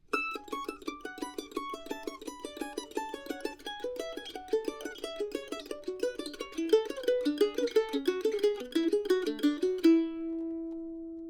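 A mandolin runs a double stop scale pattern up to speed, quick bright paired notes climbing steadily in an even tremolo-like rhythm before settling on one final sustained double stop, played solo and close.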